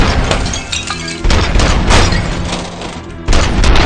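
Heavy rapid gunfire from an ED-209 attack in RoboCop: Rogue City comes in loud, dense bursts with booming impacts, broken by brief gaps.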